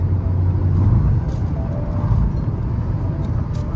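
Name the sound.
car engine revving at high RPM while cruising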